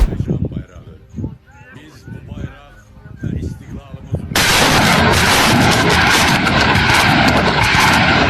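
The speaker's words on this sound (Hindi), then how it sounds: "इसी अजरबैजान ने आर्मीनिया के आम नागरिकों को निशाना बनाते हुए पाकिस्तान के MLRS दागे हैं, पाकिस्तान की मिसाइलें दागी हैं।" Multiple rocket launcher (MLRS) fire from Azerbaijan strikes Armenia. Voices and scattered distant thuds come first, then a sudden loud, sustained roar of launches fills the rest.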